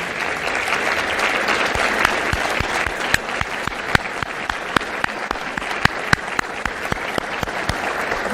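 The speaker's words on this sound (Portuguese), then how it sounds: "Vamos todos aplaudir as nossas polícias." Audience applauding in a legislative plenary session honoring the Rio de Janeiro Military Police, sustained dense clapping from a large room that holds steady throughout.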